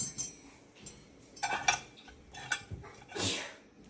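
A cat sneezes a few times in a kitchen during cooking, short sharp bursts close by with faint clinks of dishes between them and no talking.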